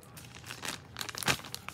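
A plastic bag crinkles and rustles close by as it is handled and pulled open, a run of sharp crackling bursts with a louder crunch near the end and no speech.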